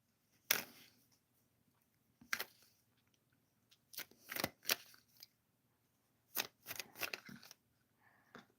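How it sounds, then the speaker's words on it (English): Several bursts of crisp riffling and snapping as tarot cards are shuffled, separated by pauses, close up with quiet background and no talking. "I'm gonna shuffle some cards for Regina."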